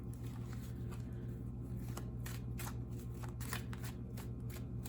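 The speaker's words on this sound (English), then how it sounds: "One more shuffle, and then we're going to pull the old-fashioned way." Tarot cards are shuffled up close in a series of crisp riffling bursts, quiet and without talk.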